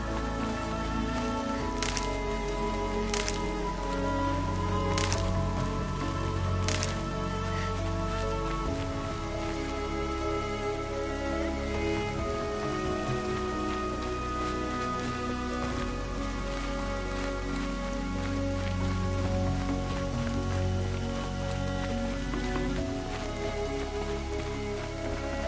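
Steady rain falls in Horizon Zero Dawn, an even hiss of drops on surfaces that lasts throughout beneath a soft musical backdrop, with a few brief sharp ticks early on.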